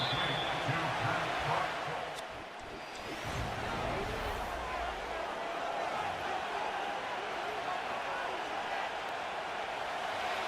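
A Madden NFL 25 stadium crowd roars steadily as third down approaches in an American football game, a dense wash of cheering that runs throughout beneath a commentator's voice.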